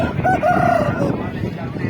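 A rooster crows once, a loud drawn-out call standing out over a busy livestock market crowd with voices talking around it, followed by continuing background chatter.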